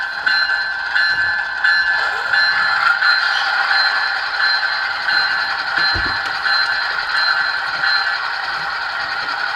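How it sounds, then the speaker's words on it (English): The Graham White electronic locomotive bell on an ESU LokSound decoder in an Intermountain ES44AC model plays continuously. Its loud, steady, metallic ringing tones persist throughout with light clattering underneath, and no voices. "That's the Graham White E-bell playing."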